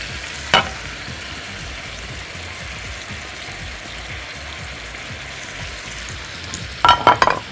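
Rice and caramelized onions fry in a pan with a steady, even sizzle. A spoon scrapes through them twice, once near the start and once near the end, and no one speaks.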